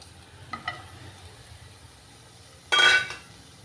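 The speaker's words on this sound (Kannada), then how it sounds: "ಇರು ಈ ರೀತಿ ಈರುಳ್ಳಿ ಬೆಳ್ಳುಳ್ಳಿ ಒಣಮೆಣಸಿನ್ಕಾಯಿ ಅದೇ ರೀತಿ ಕಟ್ ಮಾಡಿಕೊಂಡಿರೋ ಈರುಳ್ಳಿನೂ ಸಹ ಹಾಕ್ತಾಯಿದ್ದೀನಿ" Onion, garlic and dried chillies go into a pan for spinach chutney: a couple of light clinks, then a short, loud rattling clatter as the pieces drop in.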